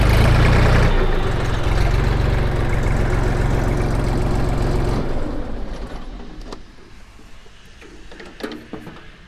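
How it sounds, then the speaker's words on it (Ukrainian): A Jinma 3244HS mini tractor engine idles with a loud, steady low rumble, then shuts off partway through, leaving quieter scattered clinks and taps. "Ось такий міні-тракторець від компанії Джинма."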